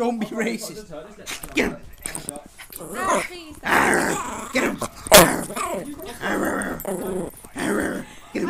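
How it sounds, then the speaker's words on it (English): A pet dog named Alfie growls close by in short, rough bursts, with people talking loudly over and between the growls. "And that was my dog."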